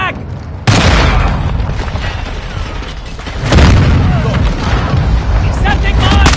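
Mortar strike explosions in Call of Duty Modern Warfare 2 land as heavy, booming blasts, one sharp impact followed by rumbling debris and then a second loud hit, all dense and close with mechanical clatter mixed in.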